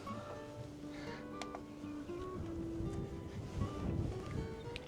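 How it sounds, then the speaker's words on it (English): Wind gusting into a bird hide at Fingringhoe nature reserve on the Essex coast, a steady close rushing roar buffeting the microphone throughout, with faint outdoor ambience beneath. "Oh wow, it's windy."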